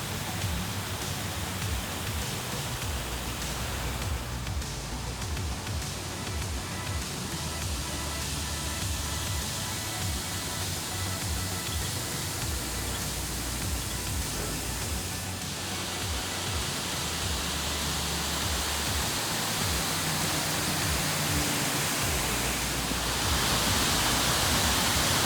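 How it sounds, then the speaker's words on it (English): Steady, dense rush of falling and splashing water from the fountains of the Fort Worth Water Gardens, loud and continuous like heavy rain, with no voices over it. "I'm gonna walk down and check out this water garden."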